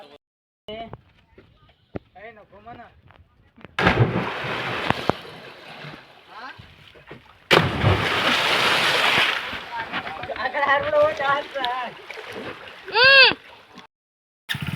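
Two bursts of heavy splashing from swimmers in a low-water village well, surrounded by people shouting and calling out to each other, with quieter gaps in between.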